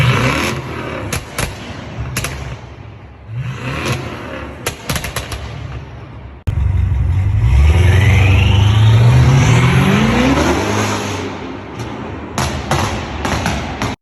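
A BMW N63 4.4-liter twin-turbo V8 revs hard, a loud, close engine note whose pitch climbs steadily over several seconds, after earlier sharp bursts and short throttle blips, with no talking.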